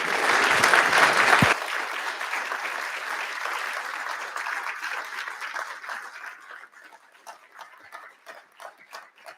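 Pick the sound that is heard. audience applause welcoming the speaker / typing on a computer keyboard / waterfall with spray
audience applause welcoming the speaker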